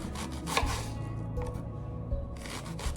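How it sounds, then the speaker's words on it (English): A knife thinly slices onions on a board in short bursts of crisp cutting and scraping strokes, close and fairly quiet, with brief pauses between the groups of cuts. "thinly slice your onions"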